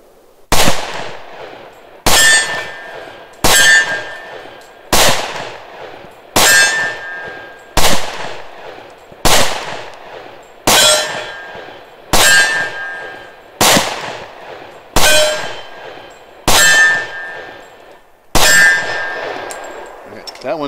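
A Springfield XDm 4.5 pistol fires .45 ACP rounds in a slow, evenly spaced string of about fourteen sharp, loud shots, each with a ringing clang and a short decay, with no talking between them.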